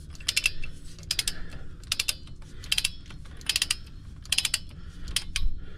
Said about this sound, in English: So I got my torque wrench set at 26.